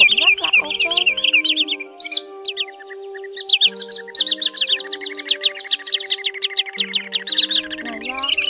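A recorded lure call of the common greenshank plays as loud, ringing repeated whistled notes in quick series, with a steady low tone running underneath throughout.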